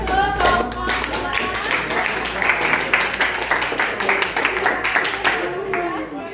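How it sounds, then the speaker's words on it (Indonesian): A classroom group claps for the second group, a dense round of applause from many hands that carries on steadily, with a few voices mixed in. "kalau tidak kita beri aplaus untuk kelompok dua"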